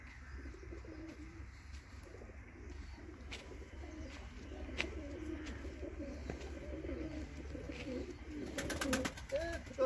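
Pigeons coo in a rural Punjab village in Pakistan: soft, repeated low cooing runs steadily under a constant low rumble, with a few sharper chirps and a louder bustle near the end.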